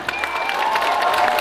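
Outdoor festival concert crowd at a town celebration in Tulcea applauds and cheers, a dense steady wash of clapping with scattered whoops, fairly close and sustained.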